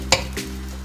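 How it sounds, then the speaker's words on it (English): An egg sizzles in a hot pan while being scrambled, with short scraping stirs at quick intervals over a steady frying hiss, close and fairly loud. "I'll add in my egg and fry this"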